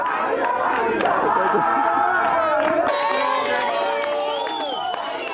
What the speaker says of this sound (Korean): 우승자에게 진심을 담은 축하와 환호가 여기저기서 터져나옵니다